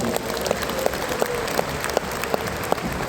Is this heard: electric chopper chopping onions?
no